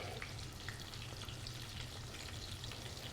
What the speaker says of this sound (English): you can hear the chicken sizzling away